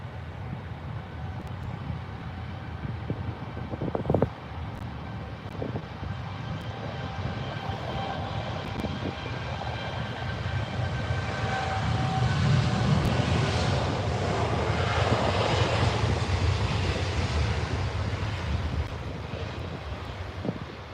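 Airliner engines at Heathrow spool up for takeoff, a broad roar that builds steadily in loudness and holds at a sustained distant-to-mid-range rumble with a faint rising whine.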